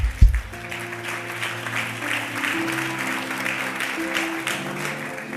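A church congregation applauding during a Sunday worship service, a sustained wash of many hands clapping that opens with a sharp thump, with a low sustained tone and some voices beneath.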